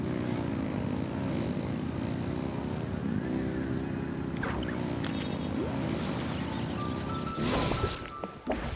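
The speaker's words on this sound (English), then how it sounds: "Rev the engines!" Steady, loud engine drone with a propeller-like hum in the Genshin Impact Lantern Rite event, holding throughout and swelling briefly near the end.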